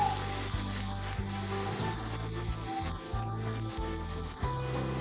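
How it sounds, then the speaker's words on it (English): Chicken with minced garlic, salt, pepper, oregano, paprika and seasoning sizzles steadily in a lightly oiled pan, a continuous close frying hiss under repeated low tonal music phrases, with no talking. "Add just a little bit of oil to a pan. Put the chicken in to cook and stir it well."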